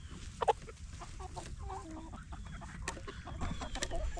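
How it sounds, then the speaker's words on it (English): Chickens and a rooster cluck softly and steadily in a winter barnyard, the scattered clucks faint and coming from a short distance off, with no one talking. "we think that's actually a rooster"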